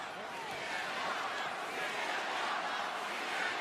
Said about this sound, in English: Crowd trying to rally against Punk, who's got a bad taste in his mouth